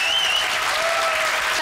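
Studio audience applause on a German TV music show, a steady dense wash of clapping and crowd noise throughout, fairly loud and close, with no clear speech over it.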